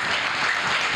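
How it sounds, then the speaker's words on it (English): A church congregation claps during a sermon, a dense, loud burst of many hands lasting about a second with no talking over it. "Let's clap for Jesus."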